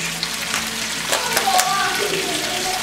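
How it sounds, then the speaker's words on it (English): Steady crackling sizzle of garlic and spinach frying in a hot skillet, with occasional stirring clatter, close and continuous. "Nice hot skillet. You hear it sizzling."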